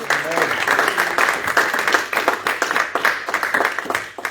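A church congregation applauds steadily, a dense sustained wash of clapping from many hands that stays loud throughout, with voices mixed in beneath it.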